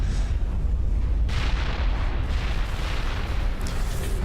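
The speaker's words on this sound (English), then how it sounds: "I think we started hearing those explosions going off before we faded out entirely." Explosions rumble through a battle in the video game Mass Effect, a dense, continuous low booming that swells sharply at about a second and a half and keeps roaring loudly to the end, with no voices.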